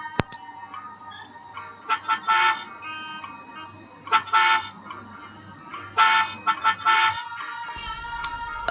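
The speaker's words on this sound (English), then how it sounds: "A horn sound was heard." Short horn toots sound in several bursts over a quiet traffic background, moderately distant, with a louder blast near the end.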